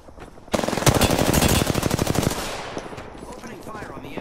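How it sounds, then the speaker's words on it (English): Automatic gunfire in Apex Legends on PS4 erupts suddenly in a loud, rapid burst of evenly spaced shots lasting about two seconds, then tails off into quiet background. "Opening fire on the enemy"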